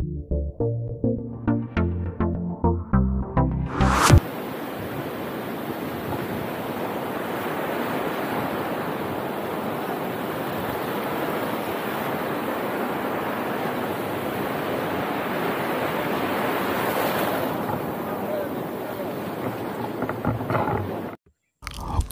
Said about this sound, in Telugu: ఇది గోకర్ణం మెయిన్ బీచ్.